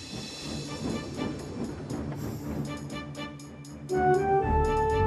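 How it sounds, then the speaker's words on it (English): A long, heavy toy train from a Thomas Wooden Railway remake runs along its track with a soft rumbling clatter and hiss, then a louder tonal whistle-like sound rises near the end. "Murdoch collected another long, heavy train."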